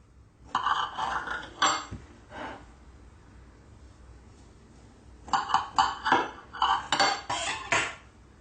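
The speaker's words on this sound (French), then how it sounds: "Alors, je vais couper un morceau." Knife slicing through a soft, moist yogurt cake, with two bursts of scraping and tapping against a plate separated by a quiet pause, close and moderately loud.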